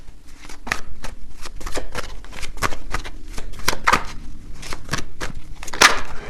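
Tarot cards riffled and snapped in quick bursts, a rapid run of crisp close-up flicks and slaps, with a louder card snap near the end.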